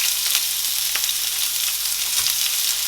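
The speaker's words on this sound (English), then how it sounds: "in the same pan, I'm going to add a little bit of oil. I'm going to add my onions." Onions fry in a little oil in a pan, a close, loud, continuous sizzle with faint crackles and occasional stirring noises, heard alone without any voices.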